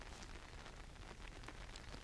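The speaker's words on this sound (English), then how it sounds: "And it's raining and I'm getting cold." Rain falling outdoors at a fishing spot, a faint, steady patter with scattered drops throughout and no voices.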